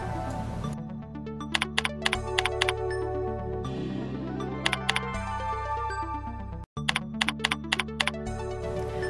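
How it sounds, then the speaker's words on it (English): Keystrokes on a computer keyboard during spreadsheet data entry, with a steady run of close, crisp clicks and several louder sharp taps, likely the return key, set over a constant background tone that drops out briefly near the end. "simply type in the invoice amounts and hit your return key to continue to the next line."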